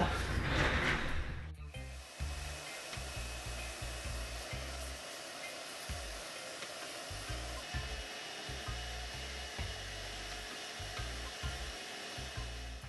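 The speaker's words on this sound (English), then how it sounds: "Now let's sand this off. This will be the front of the pendant." Wooden pendant spinning on a woodturning lathe is sanded: a steady, droning motor hum with a soft rubbing rasp over it, starting with a brief louder scrape and continuing evenly, near and without talk.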